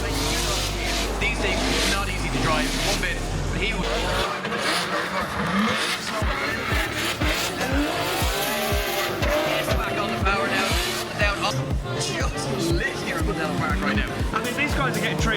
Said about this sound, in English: this crazy little BMW powered NBVR